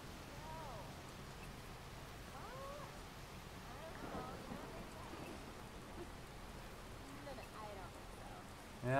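Rain in the video game Watch Dogs makes a steady, faint hiss of falling drops that runs through the whole stretch, mixed with soft game sounds and brief chirping tones.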